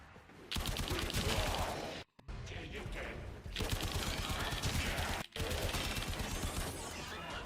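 Sustained automatic gunfire in the sci-fi shooter Warframe: dense, loud bursts of primary-weapon fire keep going for several seconds, broken by two brief silent gaps.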